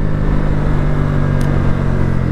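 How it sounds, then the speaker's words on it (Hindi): A motorcycle engine runs loud and close during a clutchless rev-matched downshift, a steady droning rev with a brief high click partway through and no voices. "तो गाइज ये होता है रेव मैच, जैसे अभी मैंने करके दिखाया"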